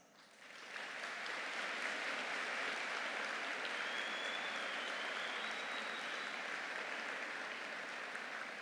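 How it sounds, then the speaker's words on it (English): Sustained applause from a graduation convocation audience, a dense even wash of clapping that swells in quickly and holds steady at a moderate distance without pause. "let's give them a heartfelt applause"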